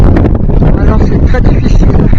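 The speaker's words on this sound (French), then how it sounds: "il y a tellement de vent que je ne sais pas si on va bien capter tout ça" Strong wind buffets the microphone on the open salt flats of Salar de Uyuni, Bolivia, a loud, continuous low roar that swamps the scene; a voice talks underneath it.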